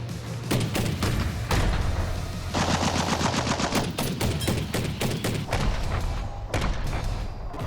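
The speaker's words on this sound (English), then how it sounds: "Using the foregrip to stabilize the M60 definitely made the difference. And just like in the movie, I was able to run through a full belt" M60 machine gun firing a full belt in long, loud, continuous bursts of rapid shots with brief breaks between them, with no voices over the gunfire.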